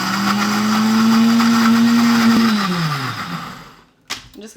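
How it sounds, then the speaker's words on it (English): Blender whirring loudly as it blends a protein shake until smooth, a steady motor tone held for about three seconds before winding down and stopping, followed by a few brief clunks. "Then you're just going to blend until smooth."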